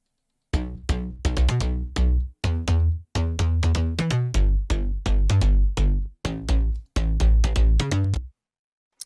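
Three layered slap house bass synths play together in a dense, punchy rhythmic riff of short bright plucked notes with small gaps, loud and clear with no talking.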